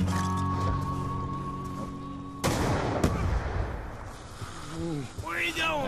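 A grenade goes off in Black Ops 2 Zombies on the Buried map, a sudden loud blast after a sustained tonal game sound, followed by a rumbling decay, scattered sounds and someone talking in the background.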